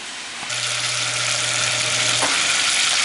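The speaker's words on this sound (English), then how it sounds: "We're going to try and get a nice sear on all sides of the meat" Beef bottom round hitting a hot pan, a loud steady sizzle bursting in after a brief quiet moment and holding strong throughout, close up, with no talk.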